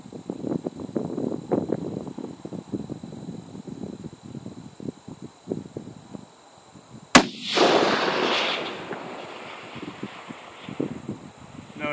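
.338 Lapua Magnum rifle fired outdoors, one loud sharp report midway with a rolling echo and wind noise after, following a stretch of quiet chatter.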